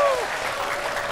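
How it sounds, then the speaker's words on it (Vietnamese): A studio audience on a Vietnamese dating show claps in steady, dense applause that fills the whole moment, loud and close, with a voice briefly trailing off at the start. "chúng ta sẽ cho một tràng pháo tay thật lớn để chào đón hai bạn nam của chương trình ngày hôm nay"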